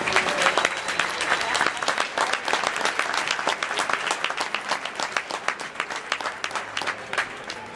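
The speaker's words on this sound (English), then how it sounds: "So let's give your ag teacher a big round of applause" An audience at a FFA stock show applauds an ag teacher, a crowd of many hands clapping in a crisp, steady patter that slowly thins out over nearly eight seconds.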